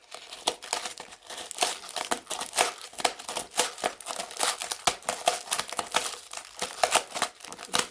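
A taped-up mail parcel is pulled open by hand with scissors nearby, giving close, continuous crinkling and tearing of packaging in quick irregular bursts with no talking.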